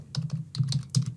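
Username being typed on a computer keyboard: a quick run of close, crisp key clicks in an uneven rhythm, with no talking.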